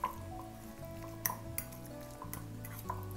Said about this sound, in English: We're just gonna add some meat and coleslaw together.